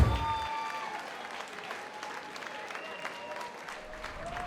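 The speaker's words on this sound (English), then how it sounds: "Let's have a round of applause." Audience applause after a Muay Thai bout ending in a TKO, a burst of clapping from the crowd that continues steadily and fades slightly, with a few faint voices in the background.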